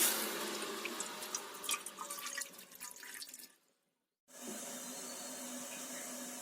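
Water is poured into a pot on the stove, heard as a close, continuous splashing stream that stops briefly, then resumes as a steadier flow.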